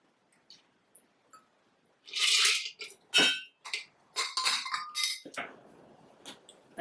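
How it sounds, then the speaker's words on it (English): Ice clinks and scrapes against a glass as a Negroni cocktail is stirred, with irregular bursts of rattling after a few faint taps, close and fairly quiet. "I like to stir it until I feel like it's very well mixed."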